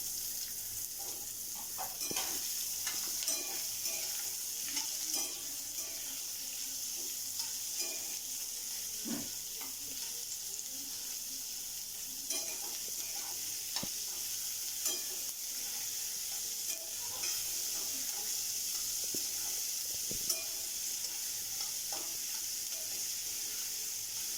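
Onions frying and being stirred in a pan for kande pohe, a steady sizzle with frequent scraping stirs and occasional clinks, close and continuous with no talking.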